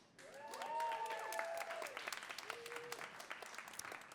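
An audience at a Boston poetry event claps, a crowd of hands rising quickly and then thinning into scattered claps, with whoops and cheering voices over the top.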